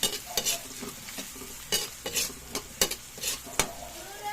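Garlic and onion sizzle in a pan for a noodle dish while being stirred, a low steady frying hiss broken by repeated scraping strokes of a spatula against the pan.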